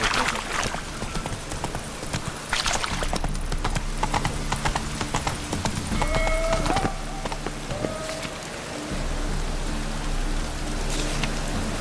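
A horse gallops through rain in The Witcher 3 video game, with fast, steady hoofbeats over a constant hiss of rainfall and a brief whinny.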